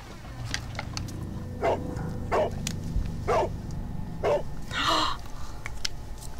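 A dog named in the video game Sherlock Holmes The Devil's Daughter barks five times at a steady pace, with the loud, close barks standing out over low game ambience.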